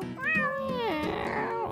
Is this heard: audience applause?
no